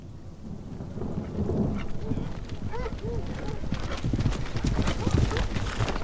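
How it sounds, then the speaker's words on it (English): A horse's hooves clip-clop steadily and fairly close on a wet, stormy day of a hunt, under rain and rumbling thunder, with someone speaking over them. "I see you're on your brother's horse today."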